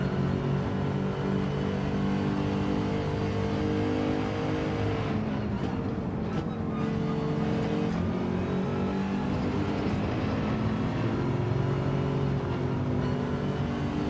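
Lexus race car in a sim racing game at Road Atlanta, engine droning loud and steady with harmonic tones that climb and dip through gear changes, pushed hard throughout.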